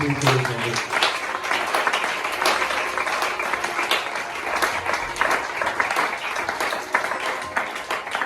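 A church congregation claps and cheers in acclaim of Jesus, giving a dense, continuous wash of applause mixed with many raised voices, steady and moderately loud throughout.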